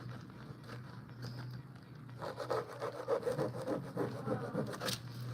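Steady back-and-forth scrubbing, soft at first and then louder and more rhythmic, rasping strokes close by and repeating quickly for several seconds.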